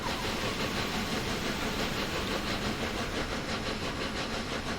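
A B17/6 steam locomotive in TS2021 drags a long train through a tunnel, giving a constant echoing roar and hiss with faint pulsing beats, unbroken and without voices.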